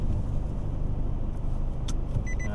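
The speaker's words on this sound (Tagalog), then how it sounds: "Yan o, laki ng truck yan mga tolits oh." A large truck passes on a provincial road in Pangasinan, heard from inside a car pulled over to the side as a steady, loud engine and road rumble with a few light rattles.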